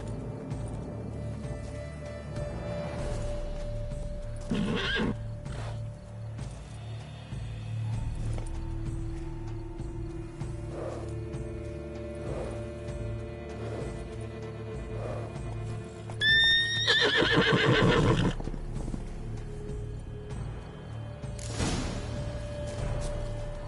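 Horse in a console video game neighing with a rising-falling whinny midway, amid soft hoof clip-clops and ambient game sounds, fairly close and clear.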